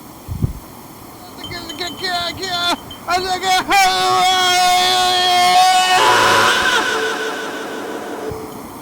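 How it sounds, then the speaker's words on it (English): Cars pass on a road, with rising and falling engine and tire noise that swells into a loud whooshing rush and then fades. Wind buffets the microphone and tonal whines sweep through. "There's some cars going by"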